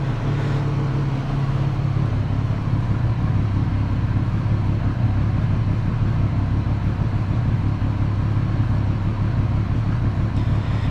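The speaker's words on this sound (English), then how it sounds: "it's about 5 decibels softer on idle with the dB killer in" A Triumph Street Triple 765R idles steadily with an SC Project exhaust fitted with its dB killer, giving a continuous loud low rumble that holds evenly throughout with no voices.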